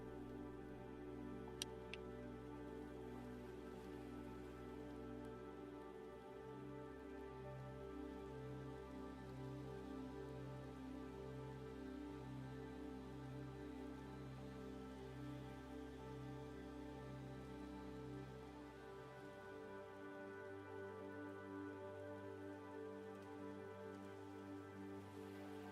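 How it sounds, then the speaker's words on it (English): Steady rain falls in the video game Farming Simulator 25, a constant soft hiss lasting throughout with a low engine-like hum underneath and no talking. "it looks like it's going to rain"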